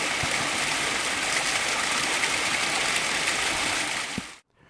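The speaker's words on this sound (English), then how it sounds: "I found this wee waterfall where I'm going to fill up my water bottle." A small waterfall pours in a steady, close rushing splash with no talking, then cuts off abruptly near the end.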